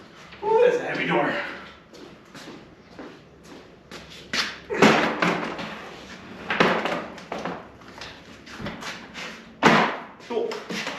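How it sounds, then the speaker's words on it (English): A heavy door being shifted during an air conditioner installation in a doorway, with several loud thumps and knocks spread across the clip, mixed with grunts and someone talking. "that's a heavy door"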